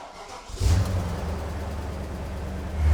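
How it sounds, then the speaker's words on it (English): A BMW E39 M5 engine starts with a brief rise, then settles into a steady, loud idle close by. "I'm gonna warm up the engine,"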